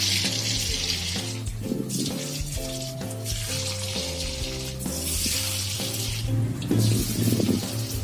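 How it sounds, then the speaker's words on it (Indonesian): Tempe cireng pieces drop into hot oil and fry with a busy, crackling sizzle that swells in bursts over a steady low hum, close and fairly loud, with no voices. "ini minyak udah panas masukkan aja"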